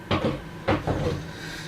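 A wooden workbench cabinet door gets handled with a few close, hollow knocks and clunks, two quick pairs of wooden bumps separated by a short pause.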